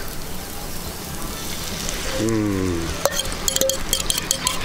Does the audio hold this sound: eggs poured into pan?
yes